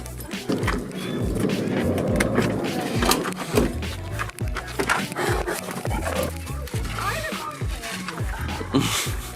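Dog barking and panting while chasing a cyclist on a road in Tennessee during a long-distance bike race, close and energetic, with excited voices talking over it.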